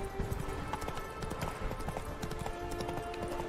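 Roach the horse's hooves clip-clop steadily in The Witcher 3, a quick continuous run of moderately close hoofbeats with no talking over them.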